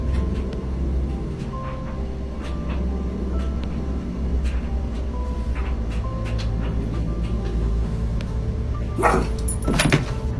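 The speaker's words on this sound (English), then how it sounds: "They heard noises in the room whilst their dog was barking" A dog barks inside a home, a few sharp barks near the end standing out over a steady, noisy indoor background with faint bumps and knocks.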